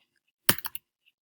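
A few quick keystrokes on a MacBook keyboard, a short burst of about four close, crisp clicks in rapid succession, otherwise near silence.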